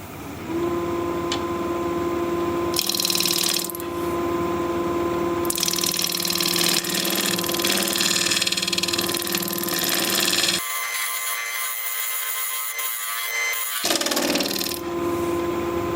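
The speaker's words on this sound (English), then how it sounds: "Still shear scraping." A wood lathe tool shear-scrapes a spinning, cracked wood piece in long, continuous rasping passes broken by short pauses and changes in pressure, loud and close.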